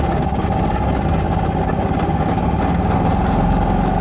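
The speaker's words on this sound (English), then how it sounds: "So the engine may sound like it's a two-stroke, but it isn't. It is a four-stroke engine." The four-stroke engine of a Heinkel Kabine (Trojan 200) bubblecar runs with a steady, buzzy, rapid throb and a persistent mid-pitched drone, loud and close, continuing evenly the whole time.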